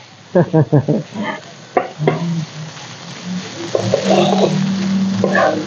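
Green curry fried rice is stir-fried with a spoon in a pan. A voice is heard near the start, then a steady close sizzle of frying builds with stirring scrapes through the second half.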